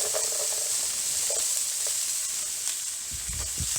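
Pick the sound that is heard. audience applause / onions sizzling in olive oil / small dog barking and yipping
onions sizzling in olive oil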